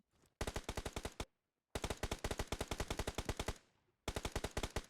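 Three rapid automatic bursts of gunfire in PUBG Mobile, each a fast, evenly spaced string of loud shots, separated by brief silences, with no talk.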